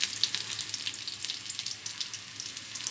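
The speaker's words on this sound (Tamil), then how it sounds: "சால்ட்டு சேர்த்து நல்லா வதக்கலாம்" Onions and salt are sautéed in a pan, giving a close, continuous frying hiss with small crackling pops throughout.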